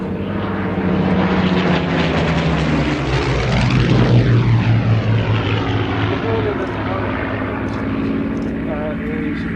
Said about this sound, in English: 1185 horsepower powers the aircraft.